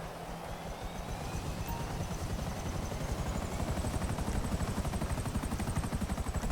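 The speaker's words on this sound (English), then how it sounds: "This is what we're going to use to follow the helicopter instead of using our car." Buzzard attack helicopter in GTA Online's Cayo Perico heist, its rotor chopping steadily and loudly with a rapid, even beat that holds for the whole stretch, a faint high whine running over it.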